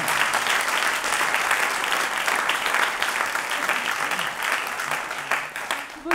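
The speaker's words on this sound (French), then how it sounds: "On peut les applaudir effectivement." An audience applauds the speakers at the close of a French finance debate, dense steady clapping from a room full of people lasting throughout and tapering slightly at the end.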